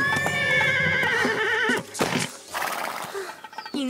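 A nervous cartoon horse gives a loud, shrill whinny that wavers and trails off, followed by snorts and a few clip-clopping hoof sounds.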